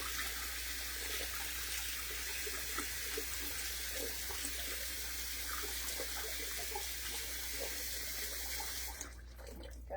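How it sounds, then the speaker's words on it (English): Tap water running steadily into a sink while handwashing a vintage wedding dress, a broad continuous hiss and splash close by that cuts off near the end, with no talking. "I think I'm going to add just a bit more water here."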